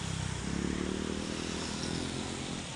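Motorcycles hum along a wet mountain road in the rain on the Marilaque highway, a steady, fairly close engine drone with the hiss of tyres on water.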